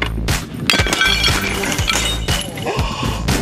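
A glass skateboard shatters and breaks, giving loud, dense crashing and clinking bursts that repeat throughout over a thick, busy background.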